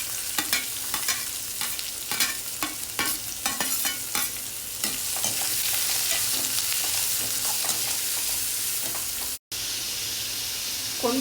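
Green chili strips, chopped ginger and onion, with garlic, crackle in hot oil for garlicky spinach: a close, busy sizzle with sharp stirring clicks early on, settling into a steadier hiss, cut by a brief silent gap near the end.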